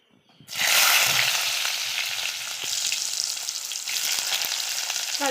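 Finely chopped small onions, garlic and ginger drop into hot oil and burst into a loud, bright sizzle that settles into a steady, crackling fry, heard alone and close.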